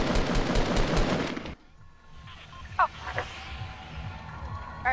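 A tactical submachine gun fires a rapid, loud, dense burst in Fortnite, then cuts off abruptly, leaving quieter game ambience with a couple of brief chirps.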